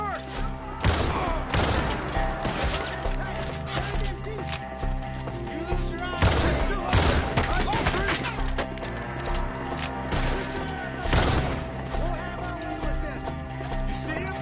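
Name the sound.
gunfire in Red Dead Redemption II video game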